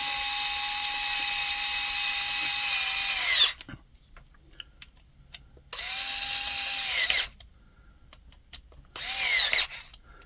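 A compact IKEA electric screwdriver whines in three bursts while tightening screws on a loop-on-ground receive antenna build, each run ending in a winding-down motor note, with quiet handling clicks between.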